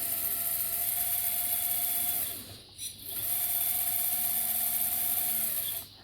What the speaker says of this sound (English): As you move the stick, the pump kicks in, you release the stick, the pump stops.